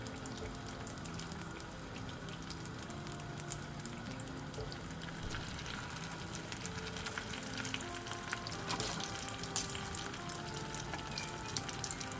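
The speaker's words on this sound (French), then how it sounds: "maintenant c'est dans l'huile, je vais les cuire" Bourek pastries filled with leek and chicken fry in hot oil, giving a steady, soft sizzle and crackle that runs evenly throughout at moderate volume.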